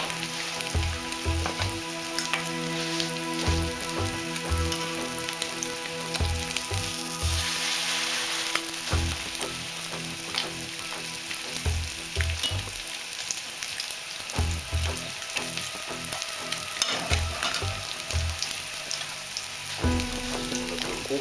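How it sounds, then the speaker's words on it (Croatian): Strained fish sauce sizzles in a pan with sea bream and vegetables, a steady close frying crackle with irregular low taps and pops throughout, and no speech. "Kada je riba pri kraju, dodamo na tavu procijeđeni umak."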